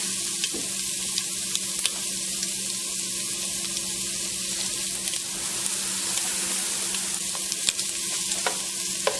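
Food fries in a pan for Cajun pasta, giving a steady close sizzle with scattered sharp pops and crackles and no talking.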